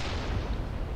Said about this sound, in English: It's just explosions everywhere.